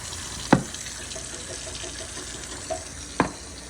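Tap water runs in a steady rush to rinse beans in an opened can under its lid while making venison chili, with a few sharp clinks of the can against the sink.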